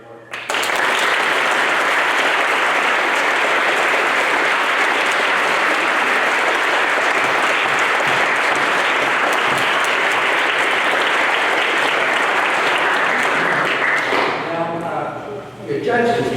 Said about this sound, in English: So I think another round of applause is in order.